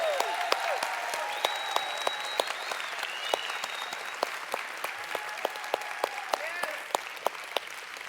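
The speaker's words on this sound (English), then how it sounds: "So a nice round of applause for Meredith Burkich." Audience applause for Meredith Burkich at a LifeWave company event, steady clapping from a sizable crowd with sharp individual claps standing out, sustained throughout.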